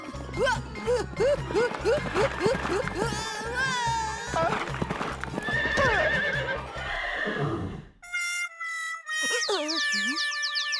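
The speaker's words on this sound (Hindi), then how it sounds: "बंटी ने घोड़े को टक्कर मारी" A cartoon horse whinnies loudly over quick clip-clopping hooves, followed by boing-like comic sound effects and another drawn-out neigh.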